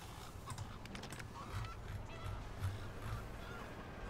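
In a modded GTA 5 game, roosters fight with repeated short honking squawks, faint and scattered over several seconds, mixed with soft computer keyboard clicks.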